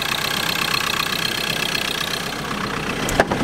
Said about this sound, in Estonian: See on rebuild mootor. Rebuilditud mootor. See on diisi autol